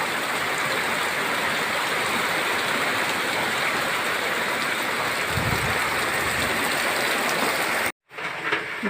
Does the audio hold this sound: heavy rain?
yes